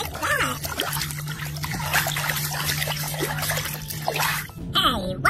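Kids playing in a backyard pool during a floatie party, with splashing and trickling water running throughout under excited children's voices and shouts, plus a steady low hum in the background.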